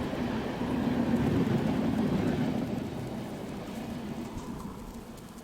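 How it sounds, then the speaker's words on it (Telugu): An express train rushes past a halted MEMU passenger train waiting at Nidamanuru railway station at night, a loud broad rumbling roar that swells early and then slowly fades, with no talking. "ఎక్స్ప్రెస్ ట్రైన్కి సూపర్ ఫాస్ట్ ఎక్స్ప్రెస్ ట్రైన్కి క్రాసింగ్ పెట్టండి."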